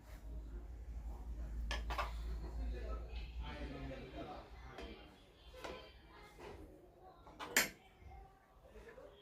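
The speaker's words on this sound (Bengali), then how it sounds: "ফ্রাইড রাইস ভাগ করছি আমার আর আমার হাজব্যান্ডের" Fried rice being served onto plates at home, with ceramic dishes and cutlery clinking and knocking in scattered close taps, one sharper clatter near the end, over a low background hum.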